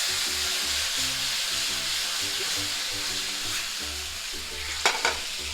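Chicken stir fry sizzles loudly with sauce in a Gotham pan, a steady close hiss and crackle broken near the end by a couple of brief utensil clinks.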